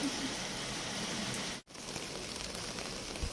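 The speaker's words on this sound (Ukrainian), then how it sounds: "Ось і пустився дощ." Steady rain pours down over an outdoor flea market in Kyiv, a dense even hiss of drops on surfaces with a brief dropout midway, no voices heard.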